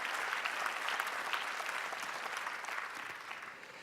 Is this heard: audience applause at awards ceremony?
yes